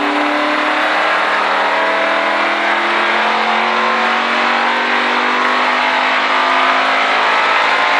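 A NASCAR race car engine held on throttle through laps, a loud steady roar with slowly rising pitch heard close up from the car and no voices.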